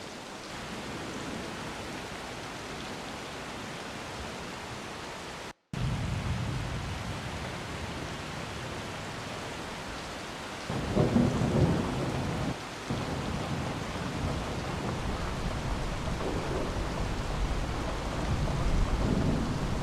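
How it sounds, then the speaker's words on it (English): Steady rain pours down while deep thunder rolls and rumbles in the distance, swelling louder toward the end after a brief break. "let me just play each of these rain recordings"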